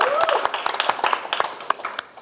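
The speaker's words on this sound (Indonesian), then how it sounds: "Yuk kita tepuk tangannya dulu ya buat kita semua." Audience at a stand-up comedy roast show applauds with a brisk flurry of sharp, scattered claps across the room, with a voice briefly audible underneath.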